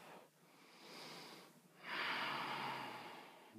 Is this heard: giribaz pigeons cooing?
no